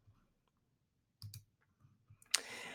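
A few sharp computer mouse clicks sound during a software demo, near and quiet, in two short pairs separated by near silence, followed by a brief burst of brighter noise.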